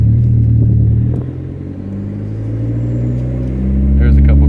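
A Dodge SRT-4 car with a new exhaust idles and revs around 1800 RPM, a deep steady rumble with rising and falling engine tones, close by, while people talk over it.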